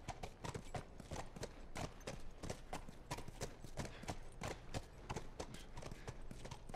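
Horse hooves clip-clop in The Last of Us Remastered in a steady, brisk rhythm, close and clear, continuing evenly throughout without any talking.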